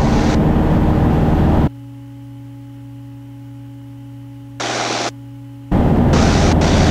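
A small airplane's engine runs up to full throttle for takeoff, a loud broadband roar that cuts off abruptly, leaving a steady low hum with a brief burst, before the full roar returns.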